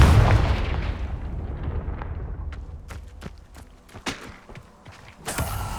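A Confringo fire spell from the Hogwarts Legacy video game sets off a heavy booming blast that rumbles and decays. Several sharp cracks and impacts follow, then a final burst near the end.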